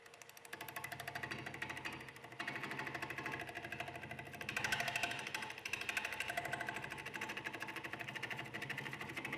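A lathe turning tool makes a rough skimming cut across a black walnut bowl with an epoxy repair, giving a continuous, fast, rattling buzz that rises and falls slightly and stays fairly quiet.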